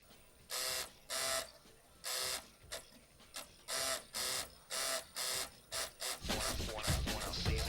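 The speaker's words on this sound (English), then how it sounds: "the noise that the Dreamcast made when playing it" A Sega Dreamcast console's disc drive makes rhythmic bursts of gritty, scraping mechanical whirring, grinding in regular pulses, ending in a continuous rougher rattle.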